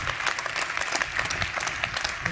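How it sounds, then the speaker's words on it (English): A conference audience in Basel at Swissbau Focus 2020 claps steadily and densely throughout as a speaker is welcomed. The applause is close, full and sustained, with no talk over it. "Please welcome Su with a warm applause between nature and architecture."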